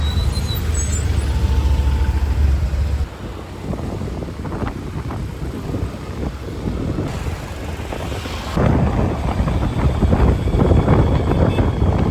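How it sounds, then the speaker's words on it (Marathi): Heavy traffic on a congested road near Baga and Calangute in Goa, with buses idling and rumbling, a steady loud engine drone and wind buffeting, dropping briefly quieter midway before swelling again. "मुंबईप्रमाणे या ठिकाणी सुद्धा जबरदस्त ट्रॅफिक लागले आहे"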